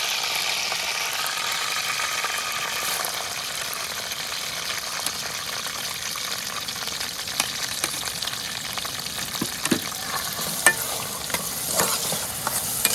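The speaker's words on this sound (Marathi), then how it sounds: "आता कांदो मस्त लाल होईपर्यंत आपण शिजवून घेऊचो हा" Onions frying in oil with curry leaves for prawn Chettinad, a steady close sizzle with stirring scrapes and a few sharper clinks toward the end, no voices.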